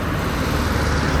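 A car passes on a road close by, heard from an eBike on a morning commute: a steady broadband roar of tires and engine with low rumble, fairly loud and unbroken, with no talking.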